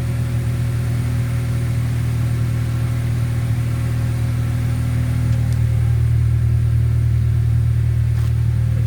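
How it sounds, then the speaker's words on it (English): A 2003 Honda Accord DX sedan engine with an aftermarket Magnaflow exhaust runs with a steady low rumble, rising slightly in a brief rev near the end; deep and continuous, close by. "And then I'll do a couple of revs on the accelerator just to hear a little sound."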